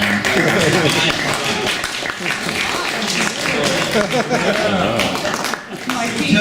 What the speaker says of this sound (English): See, Toots, you're the first one that's gotten applause.